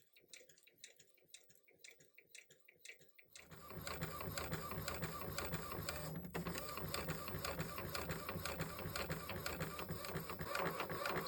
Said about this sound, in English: Now I love about DTF printing that you can raise this and you can watch it print.